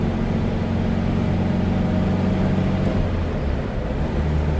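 A 1968 MGB Cabriolet engine hums steadily from inside the car as the five-speed manual gearbox moves through the gears, a continuous low drone with small shifts in pitch and no talking.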